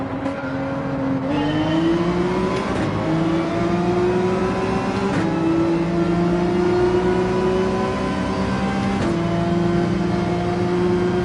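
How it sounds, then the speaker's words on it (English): Porsche 911 race car engine in Gran Turismo 7 screaming at high revs, its pitch climbing steadily toward the limiter with brief dips at each gear change, loud and close with no talk. "can hear when the 911's about to completely rev out"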